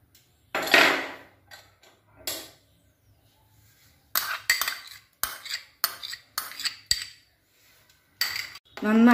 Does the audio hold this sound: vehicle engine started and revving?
no